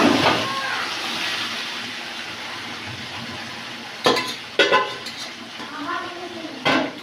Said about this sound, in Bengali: মাংসটা কষে নিতে হবে